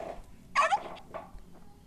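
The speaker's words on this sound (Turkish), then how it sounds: "Oradan köpek sesi mi geldi?" A dog gives a brief, fairly quiet bark or yelp in the middle of an otherwise calm interior scene during a winter holiday trip.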